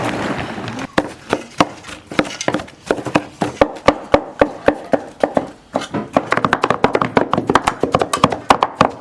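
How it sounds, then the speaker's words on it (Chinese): Chili peppers being pounded and chopped for a large batch of chili sauce, a steady run of sharp, close knocks on a board, speeding into rapid, dense tapping toward the end, with no talk. "现在把辣子砸碎，熬成酱。"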